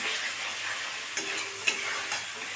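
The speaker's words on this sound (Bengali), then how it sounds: "যতক্ষণ না মশলাতে তেল ছাড়ছে ততক্ষণ ভালোভাবে কষে যাব" Mutton being sautéed in spice paste for kasuri methi mutton, a soft steady sizzle with scraping stir strokes and a couple of sharp clinks of a utensil, close and continuous with no talking.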